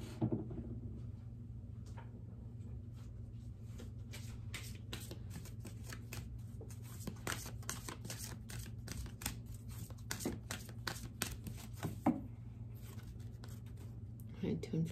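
An Ascended Masters oracle card deck is shuffled and cut: steady papery riffles and soft clicks of cards run throughout, with a voice speaking quietly beneath.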